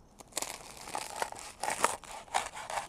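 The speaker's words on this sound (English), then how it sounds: "look how crunchy it is" A crisp baked panuozzo crust cracks and crunches as it is broken apart up close, giving a run of sharp, irregular crackles with no talking.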